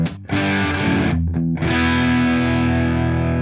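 Electric guitar on the neck pickup through a Nobels ODR-1 overdrive pedal, chords ringing out loud and sustained, with a brief choppy break before a long distorted chord holds.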